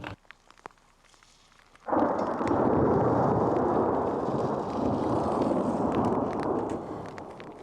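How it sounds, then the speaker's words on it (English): A thunderstorm breaks suddenly after near silence, with a loud roll of thunder and dense rain and sleet roaring steadily for several seconds. "All at once, the skies open up with thunder, lightning, rain, and sleet."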